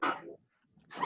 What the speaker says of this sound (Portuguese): Olha, soltaram a cachorrada.